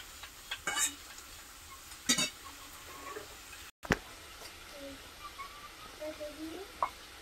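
Pointed gourd frying with spices in a pan while being stirred, giving a faint sizzle with a few sharp spatula scrapes and clicks at irregular intervals.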